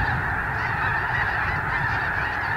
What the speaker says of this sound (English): we can see string after long string of geese flying our way. Wave after wave after wave of geese.